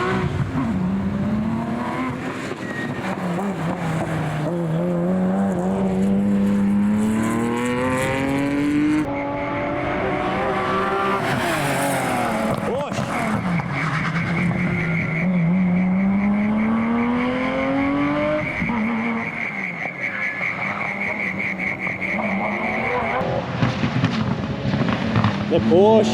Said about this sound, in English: Here he comes in the Porsche.